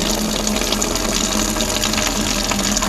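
Steady gushing of coolant draining from an opened ball valve into a bucket on a 1946 John Deere B tractor, a loud continuous pour with a low hum underneath.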